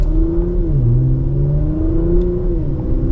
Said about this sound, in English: the Porsches always feel like they've got more horsepower than what they indicate